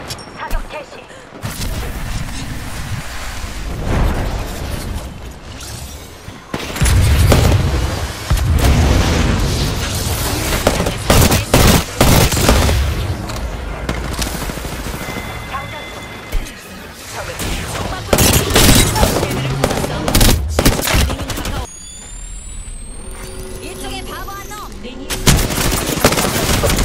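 Rapid video game gunfire with booming blasts and bursts of automatic fire, loud and dense throughout, with character voice lines spoken over the action.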